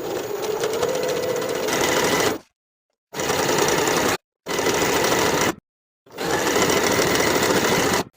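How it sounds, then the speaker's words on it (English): A sewing machine runs a stretch stitch along the neckband seam of a knit tank top in three steady bursts, each a few seconds long, separated by short pauses, close and fairly loud with no talking. "I can sew the main seam"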